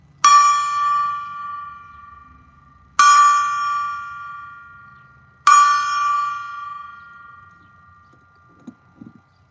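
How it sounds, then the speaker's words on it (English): A gong struck three times at evenly spaced intervals, each hit ringing out bright and sustained before slowly fading, the strokes loud and close with quiet between them. "Let's get the gong."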